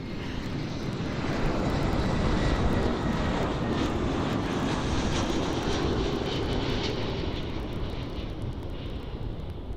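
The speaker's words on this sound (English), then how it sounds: "we've got the Iberia A320 that's about to come in now from Madrid" An Iberia Express Airbus A320 from Madrid comes in to land at Amsterdam airport, its engine roar loud and continuous, swelling slightly and then holding steady.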